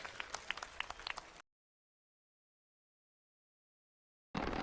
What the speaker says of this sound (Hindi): आदरणीय खड़गे साहब जोरदार तालियों के साथ उनका स्वागत करें